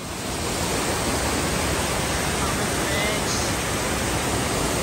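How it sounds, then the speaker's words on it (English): Steady, dense roar of a large waterfall on the Pacific Crest Trail between Snoqualmie and Stevens Pass, constant rushing white-noise texture with no pauses. "Big waterfall."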